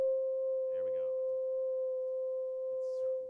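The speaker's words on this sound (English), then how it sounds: "hot air will rise through the tube, just heat it up until it's glowing red hot. Will rise through the tube and it'll excite all different sorts of frequencies" A steel Rijke tube with a red-hot heated screen howls as hot air rises through it, giving a loud, steady pure tone that holds throughout while a voice speaks briefly over it.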